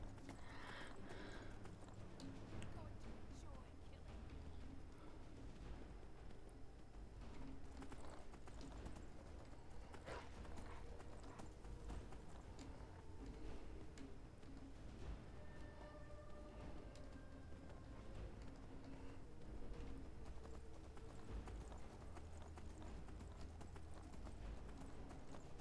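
Steady clip-clop of galloping horse hooves in the video game Skyrim runs throughout over a dense, busy background with occasional whinny-like tones, continuous and fairly close.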